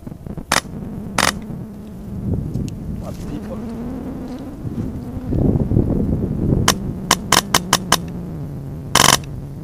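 A PolarStar Fusion Engine M4 airsoft gun fires several sharp, loud single shots and a quick string of rapid shots, with a low motor-like hum and someone talking between them.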